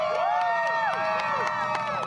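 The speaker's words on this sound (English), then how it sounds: "the crowd gave a standing ovation" Spectators at a mud bog race in Orangeville cheer loudly and continuously, their shouting crowd noise dense and close, with overlapping whoops and tonal calls rising and falling.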